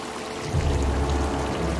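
Steady running water from a scene in the film A Quiet Place, a continuous pouring rush that swells slightly louder partway through and holds evenly.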